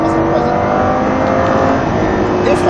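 Lamborghini LP560 accelerating hard in third gear on the Mettet circuit, a loud, sustained engine roar holding steady close by for the whole stretch.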